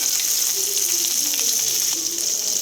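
Spice paste of garlic, cumin and coriander powder with a little salt frying in a pan for a potato and fish curry, a steady close hiss with soft crackling sizzle throughout.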